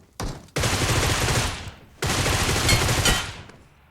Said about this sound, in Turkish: adamı niye vurdun ya?